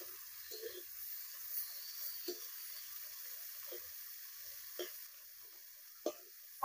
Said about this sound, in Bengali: হ্যাঁ, চিংড়ি মাছগুলো ভাজা হয়ে এসেছে।